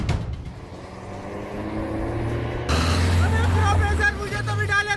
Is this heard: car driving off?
yes